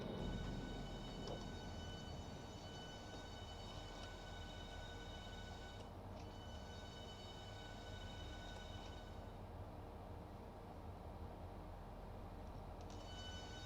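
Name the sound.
train coming to a stop, video game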